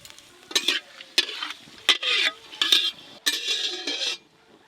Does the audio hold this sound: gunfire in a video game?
no